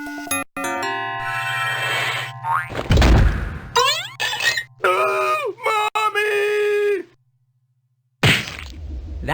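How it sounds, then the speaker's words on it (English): Cartoonish hand slap sound effects in the video game Koala Lumpur: a springy boing and sharp thwacks amid bursts of exaggerated character voice noises, a brief silence, then another hit. "That is the sound of one hand slapping."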